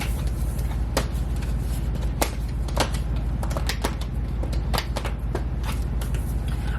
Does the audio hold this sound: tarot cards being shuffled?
yes